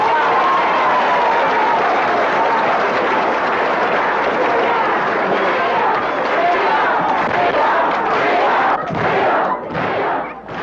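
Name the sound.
crowd applause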